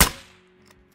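A single sharp air rifle shot fired at a brown bear in a hunting video game, loud at the onset and then ringing into a faint decaying tail with a soft tonal hum beneath.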